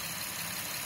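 A car engine idles after running for ten to fifteen minutes following a dead-battery start, giving a brief, steady, even rumble with no talk.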